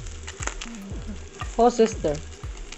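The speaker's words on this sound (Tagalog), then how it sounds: "Lunod na nato ang ahos." Garlic frying in a pan of oil, a steady close sizzle with stirring scrapes, while a voice briefly speaks over it.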